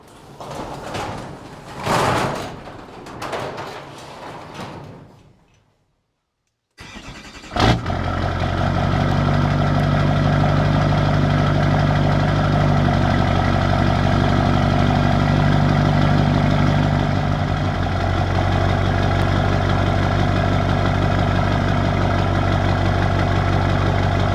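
A Chevy Silverado or GMC Sierra pickup with a Duramax diesel pulls into a shop, a steady loud idle and drone running for about twenty seconds after a few seconds of movement and a brief silence.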